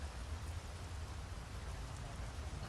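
Steady, dense rainfall hissing continuously, a loud even wash of raindrops with no voices.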